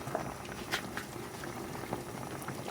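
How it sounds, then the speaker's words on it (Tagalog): Noodle soup with misua and sotanghon boiling steadily in a pot, a continuous bubbling seethe with small pops, heard alone at moderate level. "Ayan, kulo na siya."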